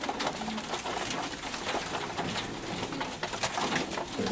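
Pigeons coo continuously inside a racing pigeon breeding loft, a dense chorus of overlapping calls.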